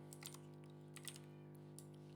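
Python code is typed on a computer keyboard in a few quick bursts of soft clicking keystrokes, faint and close, over a steady electrical hum with no talk.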